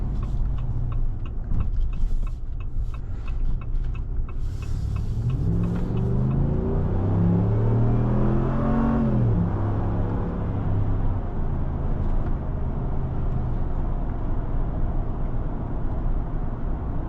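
A 2026 Ram 1500 Big Horn Black Widow pickup on big off-road tires accelerates on the road, heard from inside the cab as a steady low engine drone with a rising rev in the middle, then settling into cruising rumble.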